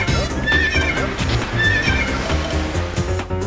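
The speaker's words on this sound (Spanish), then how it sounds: "es un caballo" Rayman's horse in the video game Rayman 2 whinnies twice in quick succession with hooves clopping, set against a dense, loud game soundtrack.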